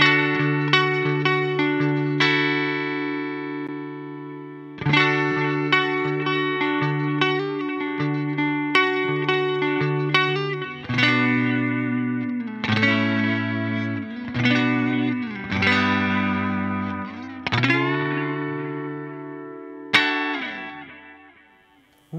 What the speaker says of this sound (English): standard tube echo.